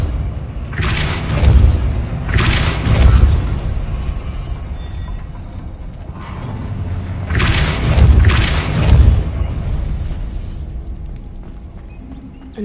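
Depulso force-push spell cast in Hogwarts Legacy, heard as four deep booming thuds in two close pairs, loud and rumbling with whooshing tails, in a game setting without talk.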